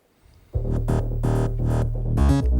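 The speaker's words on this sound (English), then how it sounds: "And then we have the bass section," The bass section of a dance track, a deep booming sub-bass line with pulsing synth hits that swells in after a quiet start and keeps throbbing steadily.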